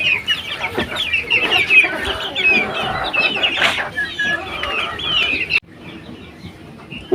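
Chickens clucking busily while feeding at a farmyard where ducks are also kept, a dense near chorus of clucks and calls that continues steadily, thinning slightly toward the end.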